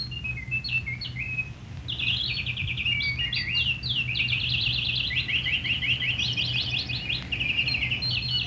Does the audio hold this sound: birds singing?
yes